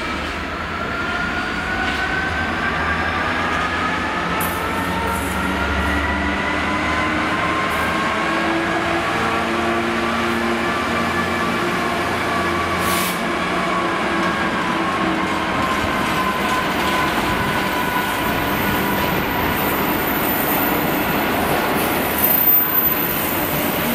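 Steam locomotive 46100 Royal Scot hauling a train through Cardiff Central station, with a steady loud rumble of rolling wheels and carriages passing close by, plus faint metallic squeals, continuous for the whole stretch.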